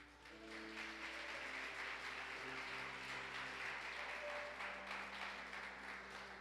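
A church congregation applauds together, a dense, steady wash of clapping that fills the hall for several seconds, with organ or keyboard tones held softly underneath.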